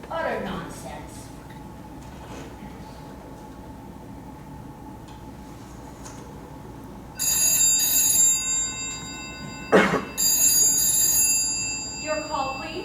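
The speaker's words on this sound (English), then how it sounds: "Ringing the police department." A telephone bell rings in loud repeated bursts, with a hum of line noise before it and a brief knock between rings.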